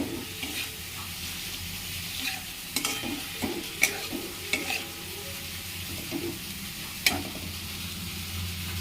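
Raw prawns stirred into okra frying in a pan, a continuous sizzle broken by scraping spatula strokes and a few louder clatters against the metal, close up with no talking.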